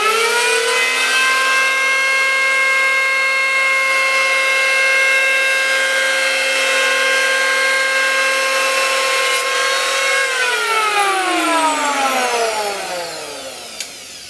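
A Jellas 7.5-amp electric hand planer chamfers the edge of a piece of wood with a loud, steady motor whine and cutting rasp that holds, then pitches down as it spins down near the end.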